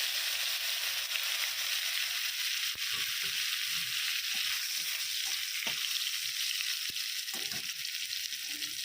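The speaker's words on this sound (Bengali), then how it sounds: "তেল গরম হয়ে গেছে, একটা লঙ্কা তেজপাতা দিয়ে দিলাম, তার সাথে একটু জিরে দিলাম, রসুন দিয়ে দেবো।" Chili, bay leaf, cumin and garlic frying in hot oil for a pangas fish curry, making a continuous even sizzle at moderate level with occasional soft taps and stirs, close and without talk.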